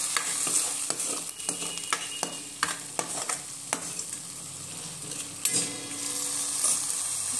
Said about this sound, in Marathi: मसाला शिजताना त्यामध्ये मी मीठ टाकते, कारण मसाला अजून छान प्रमाणे शिजतो.